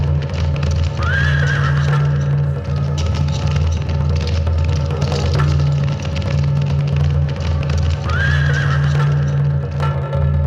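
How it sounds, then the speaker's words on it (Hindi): A horse gallops with steady clip-clop hoofbeats while neighing loudly twice, close and prominent over a constant low rumbling background throughout. "देख वो घोड़ा अपनी ही ओर आ रहा है"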